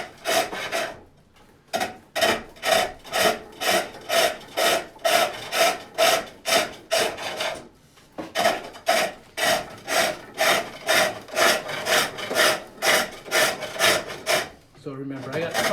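A wooden lidded box is being cut in on a foot-powered pole lathe, the tool scraping in rapid, regular rasping strokes, each stroke broken by a short pause as the lathe reverses, loud and close, with a brief gap in the middle.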